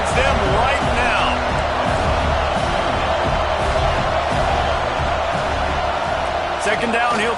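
A football stadium crowd roars for the Kentucky defense, a loud continuous wall of cheering and whooping with a commentator talking over it throughout.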